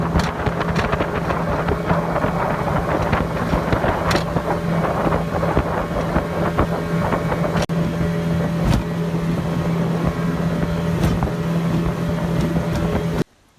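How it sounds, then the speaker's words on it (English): A boat engine drones steadily under gusty wind buffeting the microphone on water in Costa Rica, loud and continuous, cutting out abruptly at the end. "Mode of transport for wildlife veterinarians everywhere in Costa Rica by boat."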